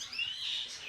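Small caged finches and parrots chirp together in an aviary, a faint, continuous twittering with no voices.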